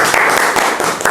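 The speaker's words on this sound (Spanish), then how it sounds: "Un aplauso para Alexander" A quiz-show audience gives a short burst of clapping for contestant Alexander, brisk and close, lasting only about a second.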